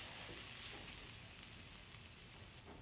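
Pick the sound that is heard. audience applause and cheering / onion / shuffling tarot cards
onion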